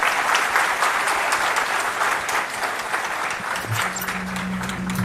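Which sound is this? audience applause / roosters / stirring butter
audience applause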